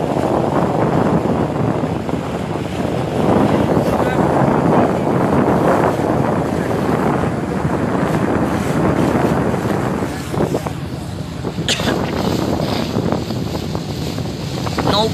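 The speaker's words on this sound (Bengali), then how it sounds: "নৌকা চলছে আপন গতিতে" Boat travelling across open haor wetland water, a continuous broad wash of motor drone and wind buffeting the microphone, loud and unbroken throughout.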